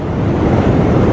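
Winter wind buffeting the microphone at St Johns Lake fishery, a loud, steady roar filling the short clip with no voices.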